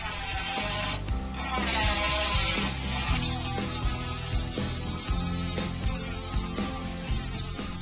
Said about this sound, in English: Just dashing over it now with the grit wheel rather than the grinder, just to sand it off